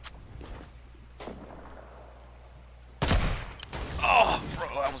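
Fortnite-style sniper battle in a video game, with a couple of faint distant shots followed by a louder burst of gunfire and impacts, while players talk over it.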